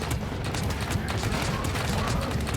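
A spud gun firing rapidly in the video game Scrap Mechanic, a fast string of close, punchy shots over a dense, loud rumble.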